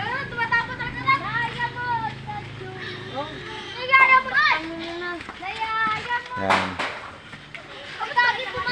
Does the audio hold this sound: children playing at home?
yes